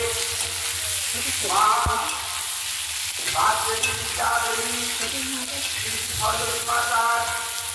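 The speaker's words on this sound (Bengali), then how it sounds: "সবজিগুলো ভাজা হয়ে এসছে" Vegetables sizzling and frying in a kadai for Saraswati puja khichuri, with repeated bursts of stirring and scraping at close range over a steady crackle.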